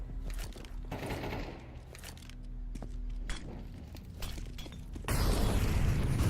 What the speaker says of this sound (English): Fino, oh my goodness, these deagles!